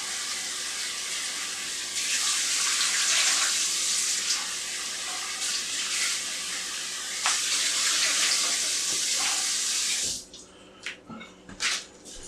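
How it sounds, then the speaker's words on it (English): Tap water runs loudly into a kitchen sink as red potatoes are washed, a steady rushing splash with brief shifts where hands move the potatoes, then the flow stops, leaving a few drips and clatters. "And wash up the rest of our potatoes here."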